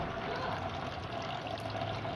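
Water tumbles steadily from a homemade rock-style decorative fountain fed by a small cooler motor pump, a continuous close splashing and trickling with no pauses.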